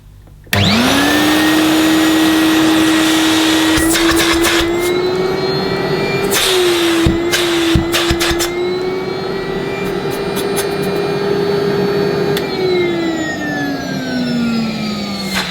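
A Filter Queen Majestic Triple Crown vacuum cleaner, 800 watts, switches on and runs alone with a loud steady whine, briefly dipping midway before the pitch drifts down near the end.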